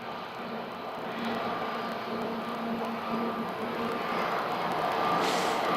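A United Boeing 737-900 airliner taxis at Phoenix Sky Harbor airport. Its engines give a steady, broad jet rumble and hiss that swells slightly toward the end, with no voices.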